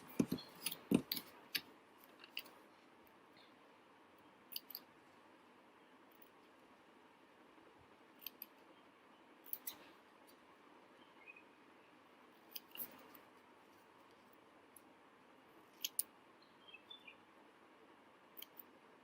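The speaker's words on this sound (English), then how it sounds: "So cut out the legs as well" Scissors cutting paper penguin legs for a craft, with sparse, quiet snips and crisp clicks at irregular intervals against a near-silent room.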